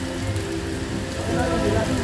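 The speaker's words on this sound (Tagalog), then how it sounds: "Lakas ng ulan, grabe." Heavy rain pours down in a steady, dense hiss and patter on surfaces, loud and close throughout, with faint background voices mixed in.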